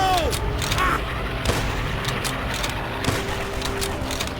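A rifle shot in Call of Duty: World at War rings out as a sharp boom near 1.5 s and another near 3.1 s, set against a dense, rumbling battlefield bed of distant gunfire and explosions.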